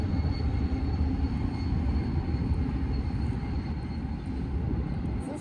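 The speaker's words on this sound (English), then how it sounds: "There's a train coming through." A train passes through Yuma near the old ferry landing, making a steady, broad rumble and roar that holds at an even level the whole time with no talk over it.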